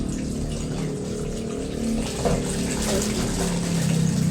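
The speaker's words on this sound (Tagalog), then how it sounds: "Lalagay lang ako dito ng tubig." Tap water pours steadily into a container holding frozen food for defrosting, a continuous loud rushing splash that stays even throughout.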